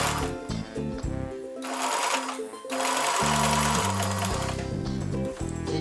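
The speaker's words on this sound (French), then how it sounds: "je couds le picot 1 mm de bord des petits picots ici" A sewing machine runs in loud, steady bursts, stitching a small picot edge onto elastic with a 1 mm margin while sewing lingerie, pausing briefly between runs.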